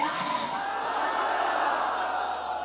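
A large crowd at a religious bayan gathering roars back in one sustained, loud collective shout answering a Nara-e-Haidari chant, filling the whole moment without pause.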